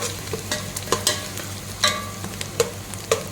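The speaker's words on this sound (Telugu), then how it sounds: "బాగా ఫ్రై అవ్వాలన్నమాట చూసేయండి ఆనియన్ అయితే ఫ్రై అయ్యాయి కదా" Onions fry in a pan for a Kuwaiti machboos with prawns and fish, a quiet steady sizzle broken by sharp periodic scrapes and taps of a spatula stirring them.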